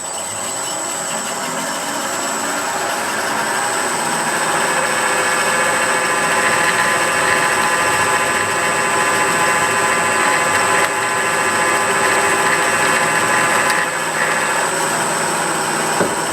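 A drill running steadily while boring a hole at a sawmill, a continuous loud whirring, grinding drone with a faint high whine, holding constant for about sixteen seconds without voices.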